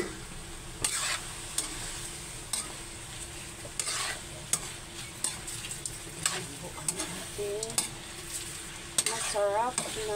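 Fried chicken, potatoes and cheese are stirred in a pan, spoon scrapes and clinks knocking at irregular intervals over a quiet background sizzle, with no speech.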